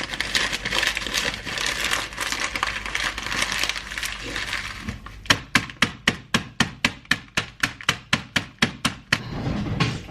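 Biscuits broken into larger and smaller bits for a no-bake chocolate tiffin, first as a dense run of crunching and crumbling, then as a steady series of about sixteen sharp, close cracks in a regular rhythm.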